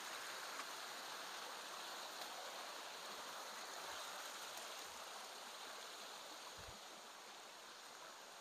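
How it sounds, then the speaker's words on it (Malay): A river stream flows steadily on the way to a waterfall, a constant broadband rush of water at moderate distance with no talk over it. "Ini sungai menuju ke air terjun"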